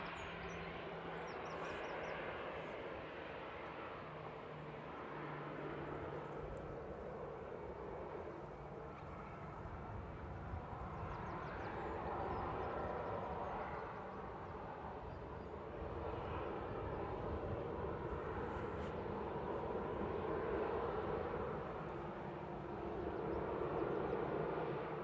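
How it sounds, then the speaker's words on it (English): An easyJet Airbus A320 Classic, about 15 years old, lines up and begins its takeoff roll at Manchester Airport, its engines a steady, distant broadband roar that swells slightly over time without any talk. "EasyJet just lining up, heading off to Prague."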